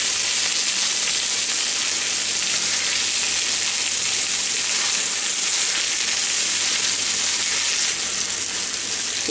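Cube steak and onions fry in a pan, giving a continuous loud, even sizzle and hiss that holds steady throughout with no talk over it.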